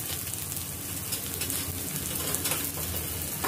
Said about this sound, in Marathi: हे थोडस परतून घ्यायचं आहे तेलामध्ये